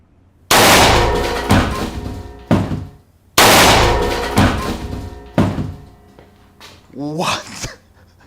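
An air-powered pistol fires single shots at a box: two loud, sharp bangs a few seconds apart, each with a short ringing tail and a few smaller knocks after, followed by a voice reacting.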